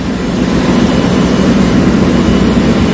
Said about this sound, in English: These are screw pumps provided on board for supplying fuel oil to the main engine and generator for the running.